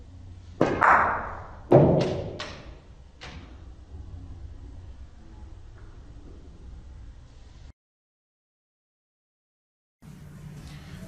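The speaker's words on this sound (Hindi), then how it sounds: "अब थर्ड स्टन शॉट के ऊपर चलते हैं और देखते हैं कि वाइट बॉल क्या रिएक्ट करेगा" A snooker cue ball played as a stun shot strikes other balls on the table, giving a few sharp close knocks in quick succession followed by quiet rolling and then a stretch of silence.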